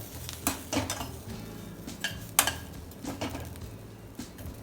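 Bread pieces stirred with butter in a pan while being crisped for a vegetarian Mediterranean salad, with scattered clinks and scrapes of a utensil against the pan over a soft sizzle, fairly quiet and irregular.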